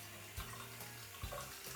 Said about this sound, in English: Wash your hands with warm water.